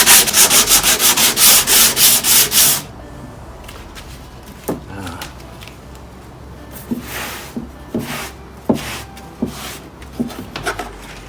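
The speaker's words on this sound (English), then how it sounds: "I'll give it a good sand" The wooden case of an HMV Model C1-81 record player gets sanded by hand in fast, loud back-and-forth strokes up close, followed by quieter, scattered rubs and light knocks.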